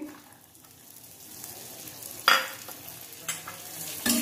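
Cluster beans fried in hot oil with asafoetida over a high flame, a soft continuous sizzle broken by a few sharp spatula scrapes and clanks against the pan toward the end, no voices.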